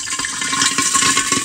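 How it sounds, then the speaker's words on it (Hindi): Water hits hot mustard oil in a pan, bursting into a loud, fierce sizzle and spatter that crackles continuously for a moment. "इसमें हम थोड़ा सा पानी डाल देते हैं और लिड लगा देंगे तुरंत।"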